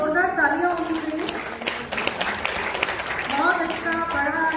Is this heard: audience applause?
yes